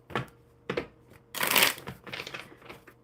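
A deck of cards is shuffled close up: two quick riffle bursts, then a longer, louder cascade of flicking cards followed by softer shuffling, with no talking.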